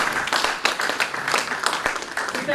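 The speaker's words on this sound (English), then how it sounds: "Please give her a round of applause." An audience at an aviation careers conference gives a round of dense, steady applause, many hands clapping together close by for a few seconds without pause.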